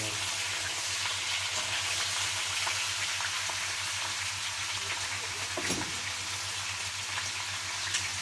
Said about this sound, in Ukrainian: Сковородочка сверчить